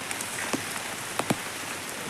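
Heavy rain falling over a paddy field, a steady dense hiss of drops with a few sharper splashes close by, no voices.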